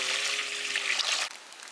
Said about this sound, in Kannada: ರೈಸ್ಗೆ ನೀರು ಹಾಕ್ಕೊಳ್ಳಿ